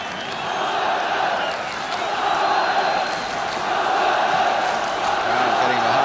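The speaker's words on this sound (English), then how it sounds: "Crowd getting behind Tottenham really now." A stadium football crowd roars steadily behind Tottenham Hotspur during a Spurs match of the Keith Burkinshaw era, a dense, continuous wall of cheering and chanting that holds at an even, loud level throughout.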